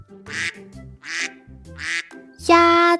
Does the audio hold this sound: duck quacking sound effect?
yes